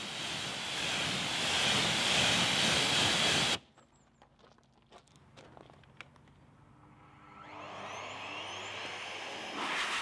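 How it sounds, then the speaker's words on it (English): A Blowair RS car dryer blasting water off a Mercedes A-Class after an exterior wash, a loud roaring air rush that cuts off abruptly, leaving quiet dripping and clicks before the blower ramps up again. "I then went in with the Blowair RS car dryer and blasted water out of the grille, mirrors, headlights and also the wheels"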